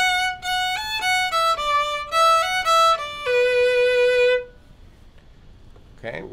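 Fiddle playing the opening phrase of the tune The Eighth of January: a bowed melody of several sustained, stepping notes, loud and clear with no voices, then silence.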